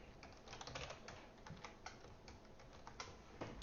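Quiet, steady clicking of a computer keyboard being typed on, a rapid run of close key taps with short pauses and no voices.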